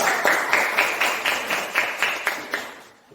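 Classroom group applause, a run of about ten rhythmic, evenly spaced claps in unison, loud and close, fading out at the end.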